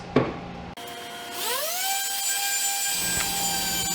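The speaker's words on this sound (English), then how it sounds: "Now the piece is ready for rough sanding." A power sander whirs up to a steady high-pitched whine, rough sanding a hardwood clipboard, running continuously, loud and close, with a brief click at the start.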